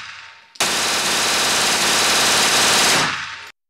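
M4 rifle fired in a sustained automatic burst, a loud, dense, continuous stream of gunshots lasting about three seconds before cutting off abruptly.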